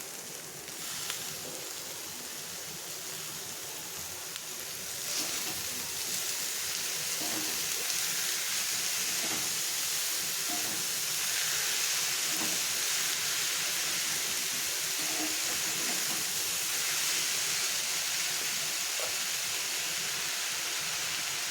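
Onion frying over lowered gas in a pan, a dense steady sizzle like rain, growing a little louder after a few seconds with faint stirring taps, no talking.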